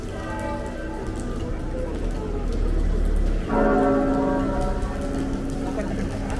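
Steady rain patters on the streets beside a cathedral in Santiago, northern Spain, a close, even hiss that keeps up the whole time, with a person speaking over it.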